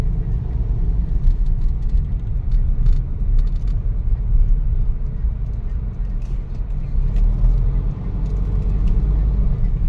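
A Mitsubishi Montero with an EGR system fault cruises on a highway, a steady low road rumble and engine drone heard from inside the cabin, with occasional talk.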